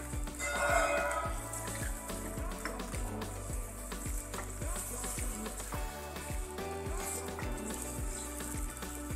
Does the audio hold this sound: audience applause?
no